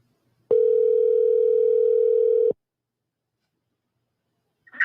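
A steady telephone tone sounds for about two seconds on an outgoing call, loud and clear, then cuts off abruptly into silence before a faint sound begins at the end.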